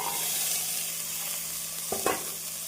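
Steady soft sizzling of tomatoes and vegetables in a pan, with a brief scraping stir near the end; quiet and close, no voices.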